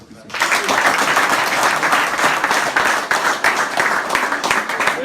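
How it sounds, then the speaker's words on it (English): A crowd applauds a football player: after a brief quiet moment, loud, continuous clapping breaks out and carries on steadily throughout, with sharp individual claps standing out in the wash. "let's clap hands for Peter."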